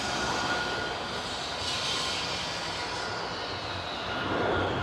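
A jet airliner takes off at Amsterdam Airport, producing a loud, continuous broadband roar that holds steady for several seconds with no talk over it.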